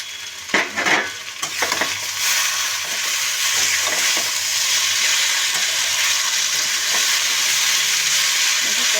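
Eggplant frying in a pan, stirred with a few sharp scrapes early on, then a loud steady sizzle and hiss carries on to the end.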